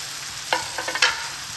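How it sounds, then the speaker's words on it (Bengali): Thick drumstick pieces, chopped tomato and spiced potatoes fry in a pan under a steady soft sizzle, with a few quick stirring scrapes in the middle, close and alone. "এই যে মোটা মোটা ডাঁটাগুলো, এইগুলো এর মধ্যে অ্যাড করে দেবো"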